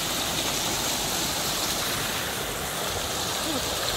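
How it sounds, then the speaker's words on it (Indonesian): A fast-flowing, clean mountain river on the Citiis trail up Mount Guntur in Garut, heard as a steady, dense rush of water that stays loud and even throughout, with no talk over it. "Beberapa menit dari pos 1 ada sungai cukup deras."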